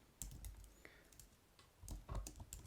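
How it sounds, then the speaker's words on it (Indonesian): Quiet, close computer keyboard typing as a terminal command is entered, irregular clusters of light key clicks with a brief pause in the middle. "Untuk membuatnya, kita bisa ketik di terminal wmake"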